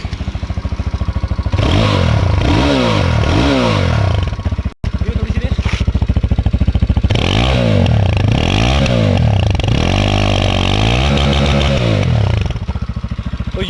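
UM Commando motorcycle fired up on its electric self-start, then running loud and close with repeated engine revving swells and some mechanical clatter throughout.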